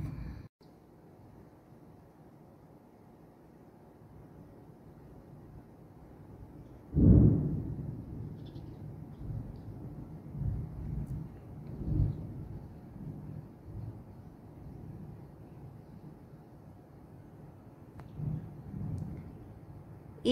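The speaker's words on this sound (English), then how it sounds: "It is thunder, my friends." Distant thunder rumbles low and soft, with one stronger clap early on and then several fainter rolls spread over a quiet background.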